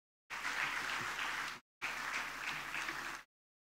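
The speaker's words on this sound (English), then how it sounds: "A big round of applause, please." Applause from the audience at a university convocation ceremony, two steady bursts of dense clapping separated by a brief gap, moderately distant and with no talking over it.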